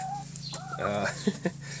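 Chickens clucking and murmuring close by inside a chicken coop, with a couple of short sharp clucks near the end over a low steady hum.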